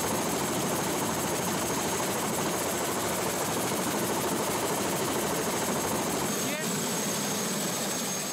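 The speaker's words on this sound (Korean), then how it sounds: "섬의 숨겨진 자연을 보기 위해선 헬리콥터 투어가 제격이다." A tour helicopter in flight over an island, with a loud, steady rotor and engine drone close up and unbroken for the whole stretch.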